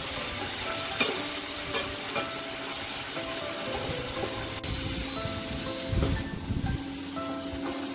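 A paste of ground almonds and poppy seeds sizzles as it is stirred and fried in a pan for a hilsa dish, giving a steady close crackle with intermittent scraping of the spoon.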